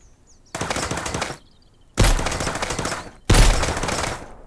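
An M4 rifle fires three loud, close automatic bursts in the survival video game Mist Survival, each lasting about a second or more, with short gaps between them and no talk over the shots.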